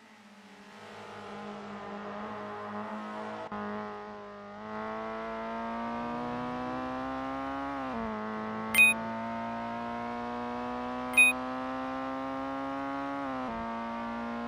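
A race car engine in a 90s-style TC2000 sim racing game holds a steady droning note on an out lap, with gear shifts stepping the pitch and two short high beeps partway through.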